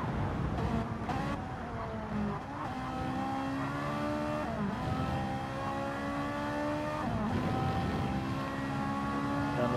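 Race car engine in Gran Turismo 7 running flat out, a loud sustained high whine with rising pitch sweeps and abrupt gear-change dips, steady and continuous with no voices.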